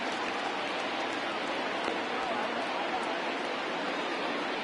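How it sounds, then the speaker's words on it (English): Rain pours steadily on a baseball field in a PS4 baseball game, forming an even, dense hiss with no breaks, as a commentator's voice runs faintly beneath it. "The rain coming down as it is, we are in for a long delay."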